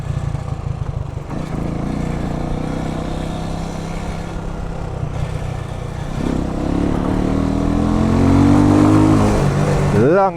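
A Jamco motorcycle with an Eagle engine rides along local roads, its small engine droning steadily up close, then revving higher with a rising pitch near the end. A rider's voice is heard in places.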